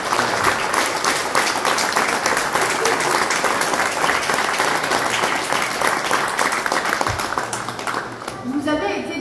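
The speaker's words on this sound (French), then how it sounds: "Je vous propose d'ores et déjà d'applaudir Madame Baudouin." Audience applauding Jacqueline Baudouin, former director of the natural history museum, a sustained, dense round of clapping filling the room at a steady level and easing slightly near the end.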